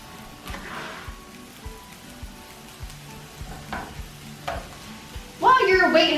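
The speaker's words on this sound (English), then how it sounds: "browning up your meat is going to take a few minutes" Meat browning in a pan on high heat, a steady sizzle and crackle broken by soft scraping and stirring thumps, with a louder burst of frying near the end.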